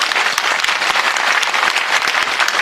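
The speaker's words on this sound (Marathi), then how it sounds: "टाळ्या वाजवा." Dense, loud audience clapping at a humorous bharud devotional performance, a continuous burst of many hands filling the whole moment.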